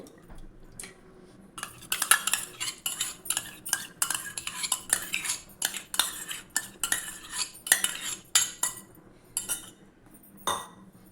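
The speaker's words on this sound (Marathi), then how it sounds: "आता मी दही ह्याच्यात टाकून घेते" Curd being stirred into kadhi bhaji batter with a spoon in a bowl, loud repeated metallic scrapes and clinks in an uneven rhythm, close up with no talking.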